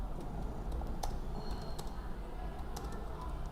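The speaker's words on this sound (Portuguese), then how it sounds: "vou digitar alguma coisa." Fingers type on a computer keyboard, a quick run of soft key clicks over a steady background hum, with a few louder taps standing out.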